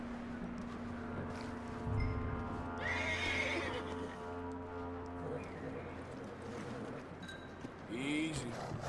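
A horse whinnies in the video game Red Dead Redemption 2, a loud neigh rising over steady ambient game music, with hoof clops and someone speaking around it.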